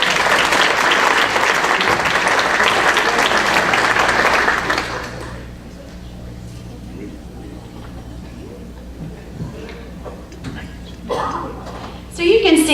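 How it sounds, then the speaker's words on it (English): A crowd at a Rotary Club meeting breaks into loud, dense applause for several seconds, then it fades into a quiet room with a few scattered knocks and shuffles. "Give them a round of applause."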